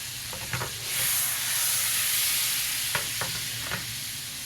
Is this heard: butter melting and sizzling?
yes